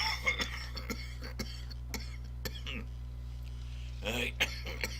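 Several short coughs and throat-clearing bursts scattered over a few seconds after sniffing cannabis, close and moderately loud over a steady low hum, with a final louder cluster of coughing near the end.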